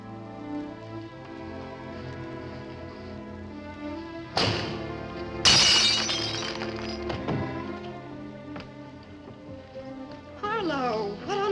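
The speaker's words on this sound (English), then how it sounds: "if you shatter a pane of glass in the dead of night, it makes a noise" A window pane smashes in the dead of night: a sharp thud, then a bright crash of shattering glass with tinkling fragments, heard over dramatic orchestral film music, followed by a last rising flourish.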